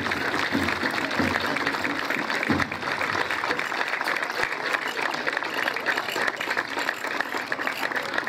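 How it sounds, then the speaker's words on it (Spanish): Steady applause from spectators lining a civic military parade for Independence Day, a dense, even wash of clapping that carries on for over eight seconds at moderate distance. "El aplauso para la gente de Landeta."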